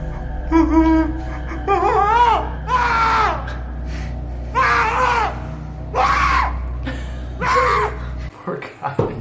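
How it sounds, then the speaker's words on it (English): A man in a ghost-hunting clip lets out repeated high, wavering screams, five or six loud bursts in a row with brief gasps between them, close and harsh, ending abruptly. "His scream is so adorable."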